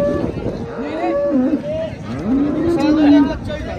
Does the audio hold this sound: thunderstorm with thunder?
no